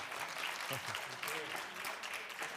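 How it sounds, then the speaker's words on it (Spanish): An audience at a talk breaks into brief applause for the speakers, a short dense patter of clapping with voices faintly audible underneath. "un aplauso para ellos"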